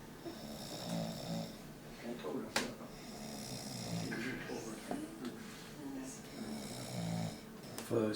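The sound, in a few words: person snoring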